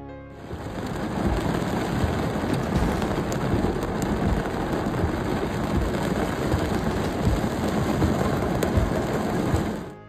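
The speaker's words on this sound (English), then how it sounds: "Due to heavy rains, heavy flooding continues in the streets in the city of Asunción, the capital of Paraguay." Heavy rain pours steadily over flooded streets in Asunción, Paraguay, a dense, even hiss of downpour held at constant loudness throughout with no voices.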